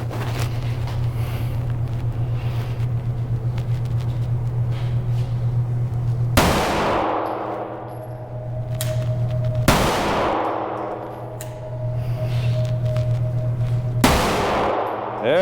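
A Sig Sauer P365 California edition pistol fires three sharp, loud shots several seconds apart, each decaying over a steady low outdoor rumble.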